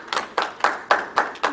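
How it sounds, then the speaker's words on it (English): Sparse clapping from a small audience at a show in a VFW post hall in Wasilla, Alaska: six distinct, evenly spaced claps ring out close by over a quiet room. "Let's hear it by applause if you've heard of the Outer Banks."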